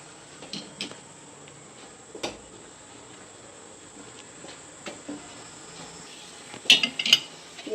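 A spoon scrapes and clinks now and then against a pan as pumpkin halwa cooks with milk, the soft stirring strokes scattered and fairly quiet over a low background hum.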